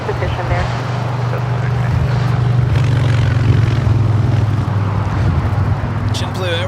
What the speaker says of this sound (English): This is American Airlines 801 taking off to Las Vegas on the 321neo.